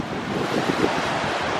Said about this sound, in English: at the ocean.